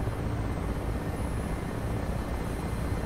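A Mi-8 helicopter hovers in the DCS flight simulator game, its rotor and engine making a steady, dense, loud drone that continues unbroken throughout with no talking.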